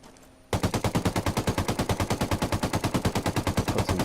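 Sustained automatic gunfire in the tactical shooter Ghost Recon Wildlands, laying down suppressing fire: after a half-second lull, a rapid, steady stream of loud, closely spaced shots rattles on without a break.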